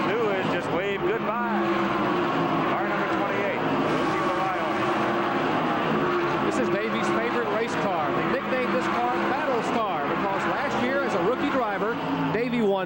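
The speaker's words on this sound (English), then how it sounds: "Davey Allison, meantime, in car number 28, continues to move up through the field" NASCAR stock cars racing at the 1988 Motorcraft Quality Parts 500, engines roaring loud and continuous with repeated rising and falling pitch sweeps as cars pass, a commentator talking over the race throughout.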